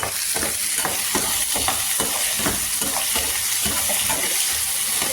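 Onions and potatoes fry in a pan with a constant close sizzle, broken by a regular rhythm of scraping stirs roughly every half second.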